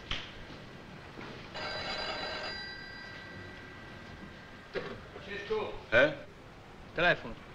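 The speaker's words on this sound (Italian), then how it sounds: "Telefono." Telephone bell rings in a quiet room in an Italian film, a steady electronic ringing for about a second, followed by faint clicks and brief scattered sounds.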